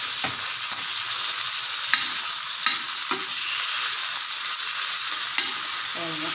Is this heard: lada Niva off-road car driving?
no